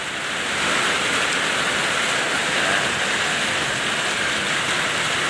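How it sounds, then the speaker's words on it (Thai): Heavy rain pours steadily onto rice fields in a dense, continuous hiss, loud and close, with no talking. "ฝนตกครับ วันนี้ตกแรงครับเนี่ย"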